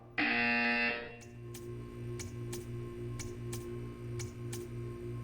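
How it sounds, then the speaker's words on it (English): A loud, harsh electronic buzzer from the video game Portal 2 blares for about a second, followed by a steady pulsing hum with regular soft ticking clicks. "You will hear a buzzer. When you hear the buzzer, stare at the art."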